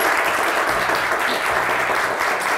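Studio audience applauding on a Turkish television quiz show, a brief burst of dense, even clapping at full strength throughout.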